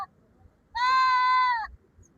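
A single goat bleats loudly and close by for about a second at a crowded livestock market, and a faint murmur of people carries on underneath.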